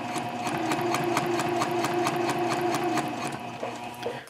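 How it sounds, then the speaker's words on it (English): A sewing machine stitches across a messenger bag seam in a fast, even run of needle strokes, close and steady, slowing slightly near the end. "you're going to start sewing across"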